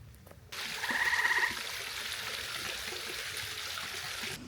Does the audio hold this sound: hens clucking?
no